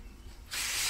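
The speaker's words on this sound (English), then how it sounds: "I'm going to give them a bit of a spray before I take them down" A hand spray bottle mists potted eggplant seedlings before they are taken out of their containers, a sudden close hissing burst that starts midway and holds steady to the end.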